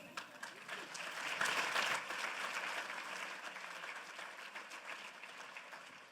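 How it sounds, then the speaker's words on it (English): An audience applauds at a county Teacher of the Year celebration, a broad wash of clapping that swells to a peak early on and then eases off while staying steady, heard from a little distance. "another round of applause for Caitlin."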